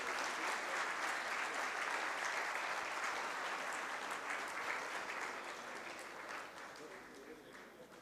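An audience in a hall applauds steadily as businessman Shiv Nadar enters. The dense clapping stays strong at first and gradually fades over the last few seconds.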